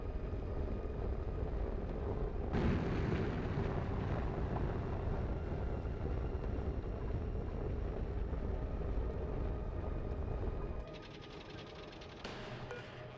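A rocket touching down after a space mission in the game Oxygen Not Included gives a steady, heavy roaring rumble that holds for several seconds, then drops away to a softer hiss near the end.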